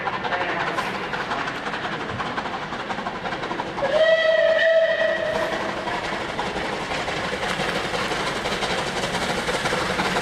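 Steam locomotive departing on a snowy day with a long passenger train: a steady hiss and rumble of released steam, with a brief whistle-like tone in the middle, heard from nearby.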